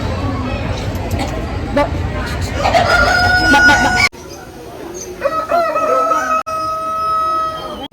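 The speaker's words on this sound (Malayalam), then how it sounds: "ഫുള്ള് കോഴിക്കളാണ്" A rooster crows repeatedly among clucking chickens, with muffled background chatter throughout.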